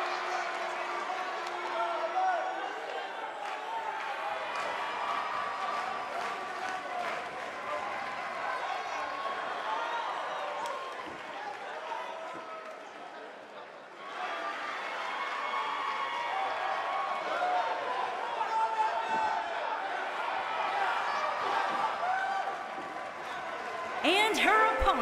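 A sold-out arena crowd roars and cheers throughout a wrestling video game match, a steady dense wash of voices that dips briefly midway, with commentary-style talk running over it.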